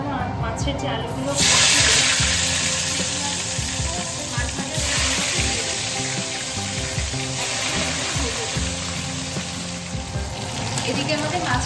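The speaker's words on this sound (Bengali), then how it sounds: "এদিকে আমাদের মাছের আলুগুলো ভাজা হতে থাকো।" Potatoes rubbed with salt and turmeric fry in oil with a loud, close, continuous hiss and crackle that swells after a short pause near the start.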